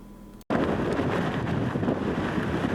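Strong wind buffets the microphone at a blustery departure from Madeira, a loud, steady roar with a possible faint wash of water beneath, beginning abruptly after a brief quieter moment and continuing unbroken to the end.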